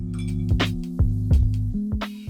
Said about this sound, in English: I give that just a little stir, quick stir, not very long.